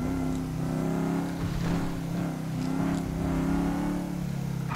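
A motorcycle engine revs steadily in Grand Theft Auto V, a sustained mid-pitched drone rising and falling slightly under continuous game noise, with no talk.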